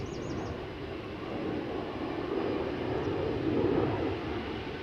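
An Air Baltic Airbus A220 taking off at Amsterdam Schiphol gives a steady, broadband engine rumble that swells slightly toward the end, heard from a distance with no voices.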